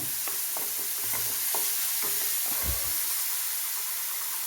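Masala sautéing in oil in a pan for a coconut-based mackerel curry, a steady close sizzle and hiss with soft stirring scrapes and clinks throughout, no voices.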